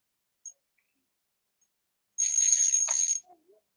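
A fishing reel's drag buzzes as a big fish runs on the line while fishing with corn bait, a single loud, rapid ratcheting burst lasting about a second after near silence, with a faint click before it.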